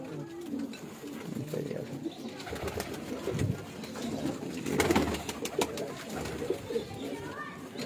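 Pigeons coo on a rooftop in Mirpur, soft repeated low calls sounding nearby, with someone talking over them throughout.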